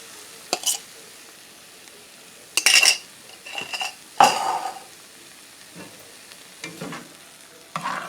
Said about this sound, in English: I'm going to give it one more stir before I add it.